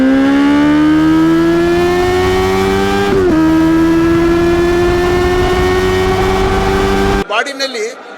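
A motorcycle engine with a 16,000 RPM rev limiter, held at a loud, steady high rev that climbs gradually, dips briefly partway through, then cuts off abruptly.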